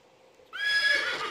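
Cartoonish horse whinny from the Toca Boca game, a sudden bright neigh rising out of quiet background and ringing for nearly a second, close and clear with nobody speaking.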